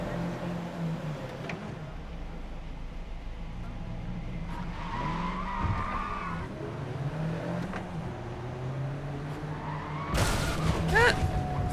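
A car in a racing video game skids under the handbrake, a long rising tire squeal over a steady engine drone, with a sharp loud burst of screeching near the end.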